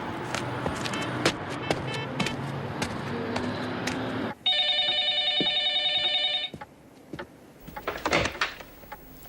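A telephone rings in a steady electronic trill for about two seconds after a stretch of clattering street noise and knocks. Traffic and bumps return afterward.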